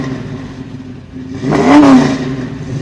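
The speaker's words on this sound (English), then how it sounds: "revving the engine lets people know that it's definitely not stock" A car engine with an aftermarket Flowmaster muffler idles with a low throaty note, then revs up sharply into a deeper rumbling roar before settling back.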